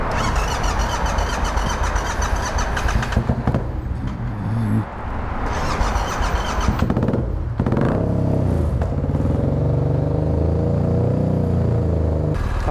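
A Yamaha MT-07 motorcycle that has just backfired through its intake starts up, its engine catching and settling into a loud, steady close rumble, with rough sputtering and clatter in the moments before it runs.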